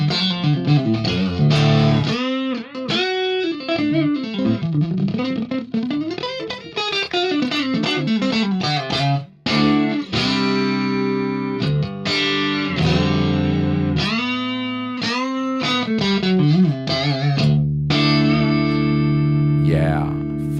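Electric guitar played through a Fractal Axe-FX III modeler on firmware 29.00, loud distorted chords and sustained single notes with cabinet and room ambience, continuous riffing with a brief pause midway.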